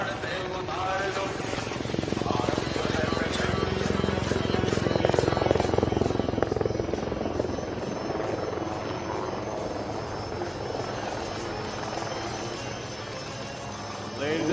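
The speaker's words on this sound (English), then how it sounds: "here she is, the light combat helicopter Prachand, right in front of you" Light combat helicopter Prachand flying at an aero show in Bengaluru, its loud steady rotor and engine roar continuous and close throughout, with a crowd and public-address chatter faintly beneath.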